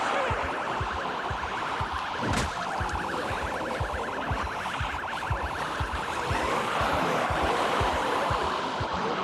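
A steady electronic siren in Project Zomboid wails continuously over a busy, rhythmic game soundscape of repeated thumps, with one sharp sweep partway through.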